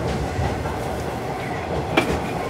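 A JNR-era Series 185 Odoriko limited express train arriving at a Tokyo Station platform rumbles steadily with a low clatter of wheels, and a brief sharper metallic squeal rises near the end; no voices.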